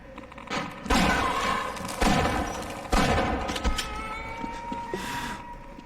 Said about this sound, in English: Okay, that's the shotgun.